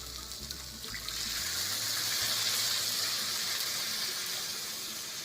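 Water pours into a masala curry in a pan with a steady, close splashing rush that builds after the first second and keeps going bright and continuous, with no talking.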